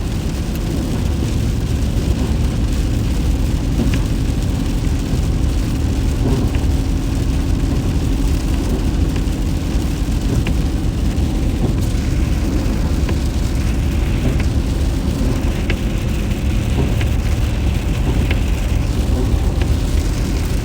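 A car drives along, heard from inside the cabin. A constant loud road and engine rumble fills the whole stretch with no clear breaks. There is no clear talking.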